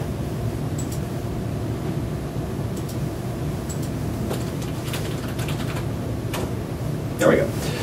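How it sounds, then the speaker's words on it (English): Username and password being typed on a computer keyboard, sparse soft keystroke clicks spaced irregularly over a steady low hum of room or machine noise. "If I type in the password and the username correctly"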